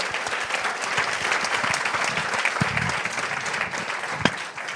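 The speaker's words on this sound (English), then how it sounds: "Give them a big round of applause" Audience applauding the panelists at the end of a discussion on joint and double programmes in Europe, a full, sustained round of clapping at moderate distance, with no talk over it.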